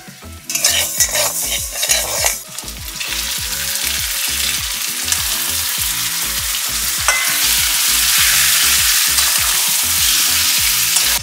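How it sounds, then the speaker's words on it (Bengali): Mutton for khichuri fries and is stirred in a pan, a loud, continuous sizzle with repeated rhythmic scraping and clinking of a spoon against the metal, close up, with no one talking. "এবার এর মধ্যে মাটনটা অ্যাড করে দিচ্ছি।"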